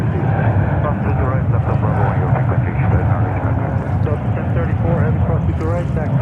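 An American Airlines Boeing 787-9 Dreamliner jet at JFK airport gives off a loud, steady engine roar with heavy low rumble and wind buffeting, and a voice talks over it throughout.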